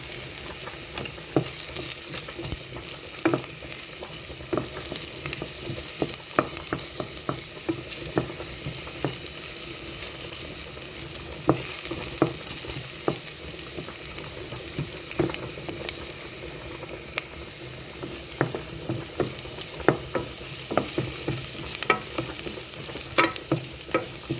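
Onions with garlic frying golden in a pan, a steady close sizzle and crackle broken by frequent scraping and clicking from stirring, with no one talking.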